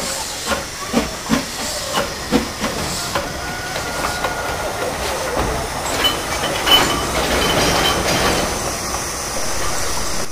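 A train runs on rails, with a run of rhythmic clickety-clack beats early on giving way to a broad, loud hissing rumble that swells near the middle before easing, heard alone without voices.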